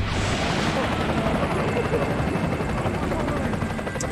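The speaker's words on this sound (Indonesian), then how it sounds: "Oke, helikopter itu membantu Leon," A helicopter in the video game Resident Evil 4 drones loudly and steadily throughout with constant rotor chop, while gunfire and voices sit underneath it.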